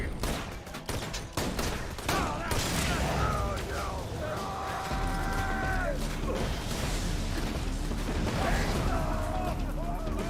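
Grenade explosions in Borderlands 2, a burst of rapid blasts and gunfire early on, then mechanical whirring and ringing tones with rumbling as a voice talks over the action.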